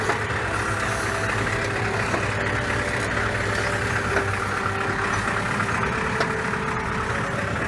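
A tractor engine drones steadily at a pistachio seedling planting in the field, a constant mid-low hum with faint mechanical clatter throughout.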